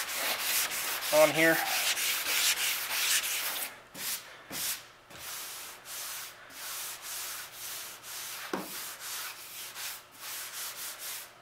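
Hand sanding of body filler on a 1986 GMC pickup with 120 grit sandpaper, rhythmic back-and-forth rasping strokes close to the microphone, a brief mumbled phrase near the start.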